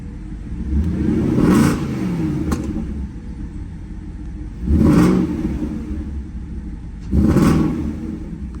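A car with a new aftermarket exhaust and stock rear section rumbles steadily at idle, swelling into three louder revving bursts spaced a few seconds apart, close and with no talk.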